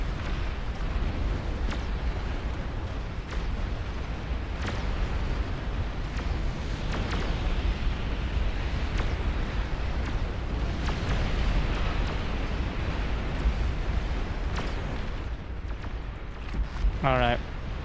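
Long-range plasma cannon shells exploding in the real-time strategy game Beyond All Reason, a steady rumbling barrage of booms and impacts with sharp bursts throughout and a brief synthetic alert tone near the end.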